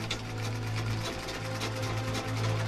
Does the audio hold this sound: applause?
no